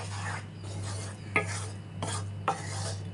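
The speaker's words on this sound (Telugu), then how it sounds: "దగ్గర ఉండి కలుపుకోవాలి మంచిగా." A spoon stirs Mysore pak batter of gram flour and sugar syrup in a pan over a medium flame, giving soft scraping strokes with a few sharper clinks against the pan, over a steady low hum, fairly quiet and close.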